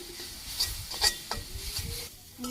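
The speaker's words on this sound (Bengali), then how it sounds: "শাক ভাজি হয়ে গেছে প্রায়, আর একটু ভাজলেই হয়ে যাবে" Leafy greens (shak) frying in a pan over an outdoor village fire in Bangladesh, a soft steady sizzle broken by light scraping stirs of the spatula, quiet and close, with no talking.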